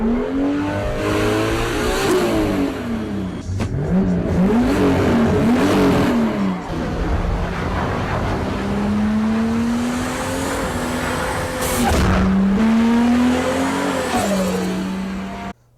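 A 1993 Mazda RX-7 race car roars close and loud through repeated high revs and gear changes in a street race, with rising and falling engine pitch and brief tire noise. No one speaks.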